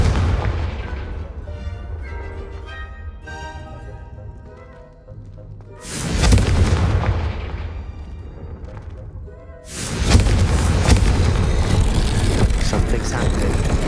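Loud blasts of the Confringo fire spell in the Hogwarts Legacy video game, two heavy booming explosions that roar and sustain, set against dark game music in a castle corridor.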